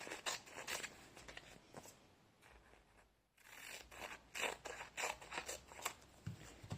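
Scissors snip off extra paper at a quilting table, giving a quick run of close, crisp crunching cuts that pause briefly midway, then resume in rhythmic bursts.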